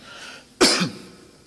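A single sharp cough bursts out in a quiet room during a post-match press interview with a football coach, standing alone with no talk over it.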